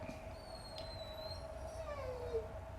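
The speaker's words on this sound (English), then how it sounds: "Sorry if you can hear my dogs. They are wild" Dogs in a home howling and whining, a drawn-out wavering cry that rises and falls, fairly faint and steady, with no speech over it.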